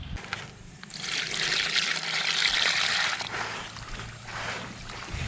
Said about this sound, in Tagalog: Ayan, lagyan muna natin ng tubig